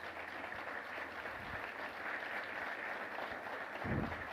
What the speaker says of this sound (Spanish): ¿Qué tal si le damos a aquel un aplauso que es digno de nuestra adoración?